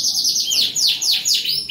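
Canaries in a breeding room, a loud close run of rapid rising and falling trills and chirps with repeated bright sweeping phrases and no talking.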